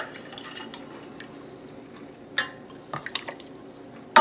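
Liquid from blended fruit with seeds is poured into a blender jar. Soft dripping and splashing come first, then a few sharper clinks of glass and utensils close by. Nothing is spoken.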